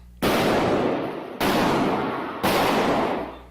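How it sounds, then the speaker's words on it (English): Three loud, sharp rifle gunshots ring out about a second apart during a church shooting, each cracking hard and then echoing as it decays. "the sound of the gunshots is jarring"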